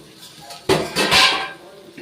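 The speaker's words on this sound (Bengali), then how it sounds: "10 মিনিট পর ঢাকাটা খুলছি।" A plate used as a lid is lifted off a pan of tel potol, pointed gourd cooked in oil, with a sharp close metallic clatter followed by a brief second clink, then quiet.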